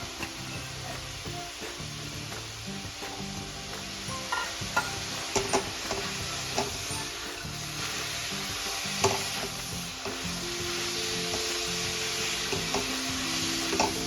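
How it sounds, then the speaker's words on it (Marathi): Soaked toor dal is stirred with radish in oil, giving a continuous frying sizzle with frequent scraping and clacking of a spatula in the pan throughout, fairly close and without any talk. "आता डाळ पण आपण मुळ्यासोबत अगदी व्यवस्थित अशी तेलामध्ये परतून घ्यायची।"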